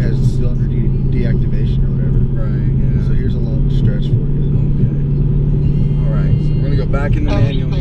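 A Dodge Hellcat's engine rumbles steadily from inside the cabin on a long stretch of road, a deep continuous drone under constant conversation.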